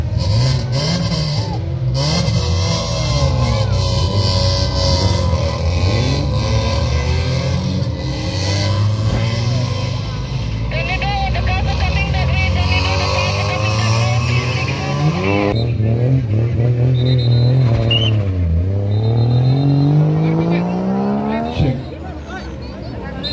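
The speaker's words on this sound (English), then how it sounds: "The iron car, the grey car, the sunbike, and the drift cars, BMW drift car" A BMW drift car engine revs and whines loudly at a motorsport festival in India, pitch sweeping up and down continuously, with an announcer talking over it.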